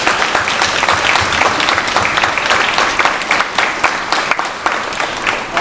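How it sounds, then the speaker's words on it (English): Sustained audience applause for swing dancers at a 2022 dance showcase, steady dense clapping from a large crowd that fills the room evenly throughout without a break. "Let's give them all another round of applause."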